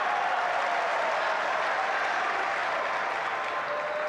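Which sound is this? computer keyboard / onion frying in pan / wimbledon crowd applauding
wimbledon crowd applauding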